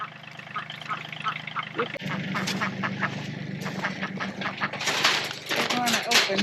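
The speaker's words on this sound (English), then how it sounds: "Hi, ducks." Ducks quack repeatedly in a farmyard in frozen North Texas weather, a busy chorus of nasal calls close by, mixed with a person talking and some handling noise.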